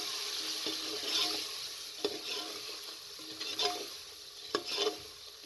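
A spoon stirs and scrapes through spiced meat in a sizzling pan, with several distinct scrapes over a steady frying hiss.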